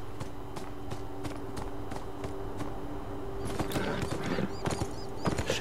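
Horse hooves clip-clop in the video game Beyond Two Souls as a steady run of hoofbeats over a constant tonal game soundtrack, growing busier and louder toward the end.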